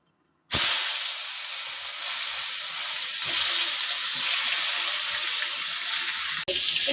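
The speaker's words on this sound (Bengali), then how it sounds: "একটু হাই ফ্লেমে রেখে বেগুনগুলোকে লাল লাল করে ভেজে তুলব" Eggplant slices frying in hot oil over a high flame while making a Bengali rui fish curry with potato and eggplant, a steady loud hiss and sizzle running continuously from start to finish with one brief dip near the end.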